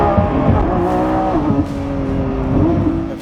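Lamborghini Revuelto hypercar V12 engine revving loud and close, a sustained throaty drone with rising and falling harmonic sweeps through several throttle blips, alone with no talk.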